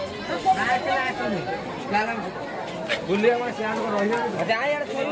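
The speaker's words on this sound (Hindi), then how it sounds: "भीड़ माने प्रबल भीड़" Dense crowd chatter fills a Shiva temple during Maha Shivaratri, many overlapping voices talking at once in a close, continuous hubbub.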